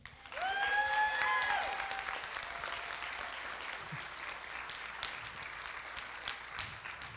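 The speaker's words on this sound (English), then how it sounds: "if y'all don't want to give them a hand clap," Congregation clapping for the praise team at a Sunday morning church service, full applause rising quickly and holding steady, with a few cheers and whoops near the start before settling into even, continuous clapping.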